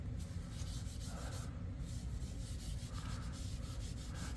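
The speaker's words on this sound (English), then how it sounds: "you can just give it a nice rub, just kind of buff it a little bit." A comic book's surface is rubbed and buffed by hand, making a steady, soft, close brushing friction that runs continuously without pause or talk.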